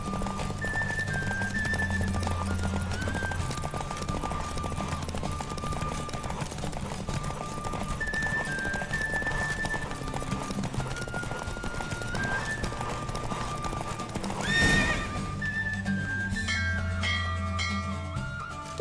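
Hooves clip-clop in a fast, steady gallop in the video game The Witcher 3, under a droning music bed, with a brief surge of noise near the end and a horse whinnying.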